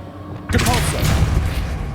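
Depulso spell cast in the Hogwarts Legacy video game, a sudden thudding burst of force at about half a second followed by a sustained rumbling whoosh with game music and background tones.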